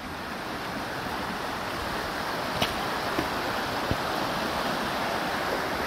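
A flood-swollen brook rushes through a valley by a mill, a steady, dense roar of water with a few faint knocks, continuous and close, with no talk.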